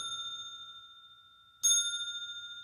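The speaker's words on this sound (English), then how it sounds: "And this is my bowl." A meditation bowl struck once after a fading earlier ring, producing a sharp onset and a long, steady, shimmering metallic tone that sustains, near and alone.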